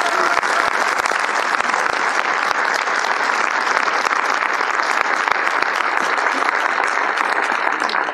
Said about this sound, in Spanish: creo que podríamos darle un aplauso